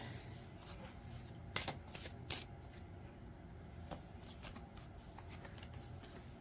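Tarot cards are shuffled close by, a continuous soft riffling and flicking with a few sharper snaps, quiet and steady with no talking.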